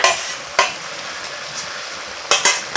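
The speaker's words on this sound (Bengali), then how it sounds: "এখন আমি এতে দিয়ে দিব সর্ষে বাটা" Mustard paste being cooked into boiled potatoes and Malabar spinach stems for a rustic chorchori. The close, steady sizzle carries several loud spoon or spatula knocks and scrapes against the pot, clustered near the end, with no talking.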